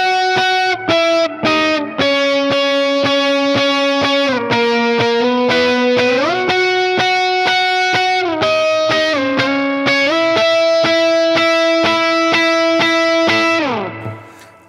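An electric guitar with distortion plays the octave line from a song slowly and without delay, sustained octave notes shifting in pitch steadily, loud and close, fading out at the end.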